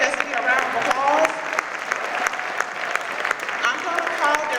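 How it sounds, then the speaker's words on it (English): A veterans' event audience applauds at a senior services panel, a sustained round of clapping with voices mixed in underneath, moderately loud and continuous. "So can you please give AFSC a round of applause?"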